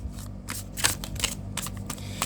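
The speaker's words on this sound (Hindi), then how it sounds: "last shuffle" Tarot cards being shuffled in rapid riffling bursts, close and clear, with a steady low hum underneath and no talking.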